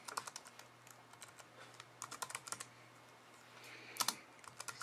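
Code is typed on a computer keyboard in quick, uneven bursts of light key clicks, close and quiet against a faint steady hum, with no talking.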